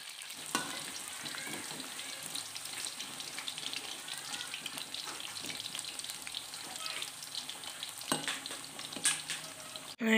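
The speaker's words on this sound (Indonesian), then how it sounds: "Kita goreng kentang dulu ya bun" Potatoes fry in hot oil in a home kitchen, giving a steady soft sizzle and bubbling with occasional stirring clatters, fairly quiet and without talk.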